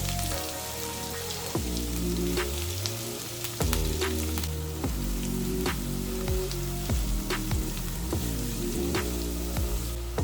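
Sliced onion, chilli and curry leaves fry in hot coconut oil in a pan, a crackling sizzle running under prominent background music, with no voices.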